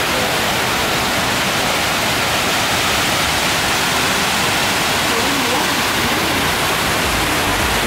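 A fountain at Hemisfair Park in downtown San Antonio gives off a loud, steady rush of falling water that fills the whole scene without pause.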